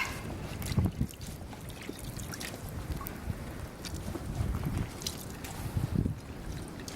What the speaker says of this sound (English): I'm going to kind of wring it out and try and get that to stay in the bucket